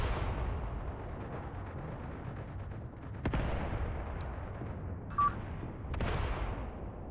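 In the World War II strategy game Mius Front, Nebelwerfer rocket artillery fires, making dull, rumbling booms with reverberant tails and a few sharp cracks. No one talks, and the sounds come fairly faint.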